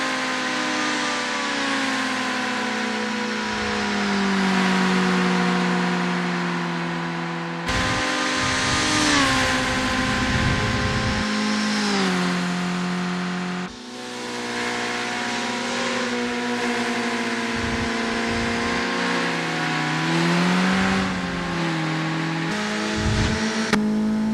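Several kei cars race around Tsukuba Circuit in the Assetto Corsa sim, their small engines revving hard, whining through rising pitches and cutting sharply between gears. Multiple cars overlap, loud and close, with no talking.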